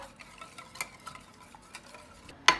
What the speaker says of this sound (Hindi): बस इसको ना हम अच्छे से बीट करेंगे और सारे मसालों को मिलाएंगे। इसको हम अच्छे से मिक्स करेंगे।